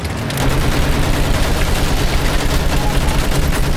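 Dense, sustained volleys of gunfire with machine gun bursts during a World War I battle in the video game Battlefield 1, loud and continuous with no pause.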